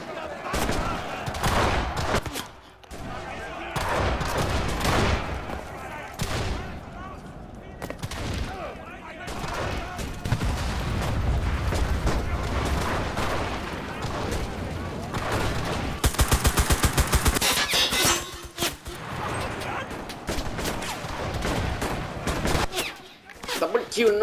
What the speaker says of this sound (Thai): ดูมันยิง